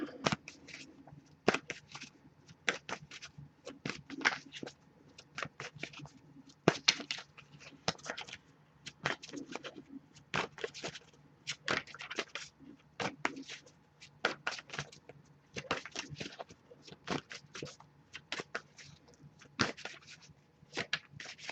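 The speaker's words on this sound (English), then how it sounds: "I'll give a few more shuffles before I give up" Tarot cards being shuffled in quick riffling bursts, repeated again and again with short pauses between, close and crisp, with no talking.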